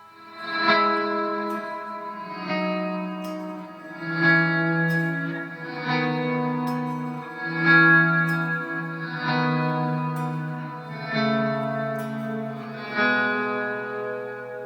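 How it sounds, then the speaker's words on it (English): Sustained synth-like tones swell in repeated waves, each chord blooming backward into a wide, spacious wash of reverb, loud and continuous with no talking. "The size knob basically adds in a standard reverb after the reverse."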